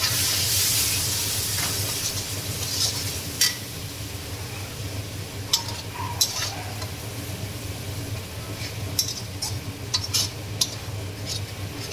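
Water goes into a pan of sizzling spicy mutton curry, raising a loud hiss of steam that gradually settles into a softer sizzle, broken by scattered clinks of a spoon against the pan.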